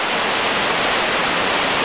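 A mountain waterfall on a high hiking trail, a loud, dense, unbroken rushing roar of falling water heard close up with no voices.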